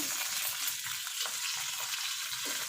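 Mustard seeds, dried and green chilies and garlic cloves fry in hot oil in a pan for an amla pickle, giving a steady dense sizzle and crackle with faint stirring scrapes, close and continuous, no voices.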